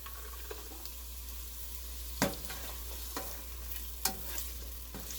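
Non-spicy pepper hitting a pan of frying garlic, scallion and onion for a Caribbean curry crab, with a steady close sizzle and a couple of louder scraping stirs.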